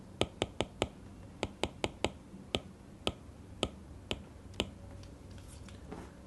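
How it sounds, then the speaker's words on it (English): Crisp clicking taps of an Apple Pencil tip on a tablet screen, around a dozen in quick groups, close up and distinct against a quiet background. "Let's hear the tapping sound for these 5 pens."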